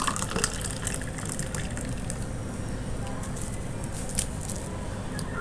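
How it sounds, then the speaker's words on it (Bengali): Chilled raw mango sherbet with a borhani-style flavour is poured into a jug, a steady gushing stream of liquid splashing for several seconds with faint voices in the background. "জগে ঢেলে দিলাম।"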